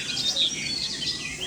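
Fritz reed warbler singing in the Western Ghats near Banda Sawantwadi: a steady stream of high, scratchy chirps and twittering phrases, moderately close and continuous, with no voices.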